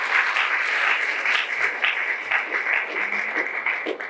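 Steady, sustained applause from an audience at a ceremony honouring film figures in Burundi, loud and close, with no talking over it.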